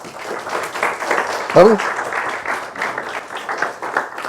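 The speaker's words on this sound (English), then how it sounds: "please give a very warm round of applause for Dr. Pervez Hoodbhoy" An audience welcomes Dr. Pervez Hoodbhoy before his science lecture with a soft, continuous patter of clapping, while someone speaks briefly near the microphone partway through.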